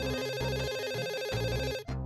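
A telephone rings steadily in a domestic sitcom scene, its repeating electronic ring pattern filling the short moment alone without talk.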